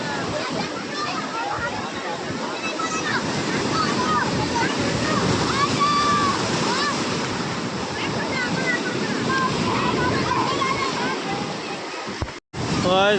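Waves roll onto the shore at Digha in a loud, continuous roar of surf and wind, with voices talking throughout. Near the end the sound cuts out for a moment.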